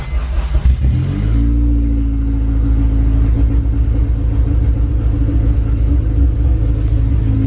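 A swapped Honda K24A2 engine in a Honda CR-V catches and settles into a loud, steady idle rumble close by, after a brief rough start-up in the first second.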